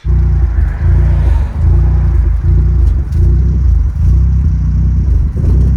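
Rough idle from a freshly tuned big-turbo Abarth 500 engine, a loud steady low rumble with a lumpy, uneven pulse that dips roughly every second.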